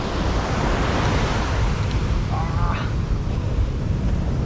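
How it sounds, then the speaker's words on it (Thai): Sea waves at Patong beach in Phuket at night with a high tide, a steady, loud roar of surf and wind noise that runs unbroken, with no talk. "ดูทะเลตรงนี้แป๊บหนึ่งนะ"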